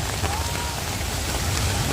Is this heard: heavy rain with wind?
yes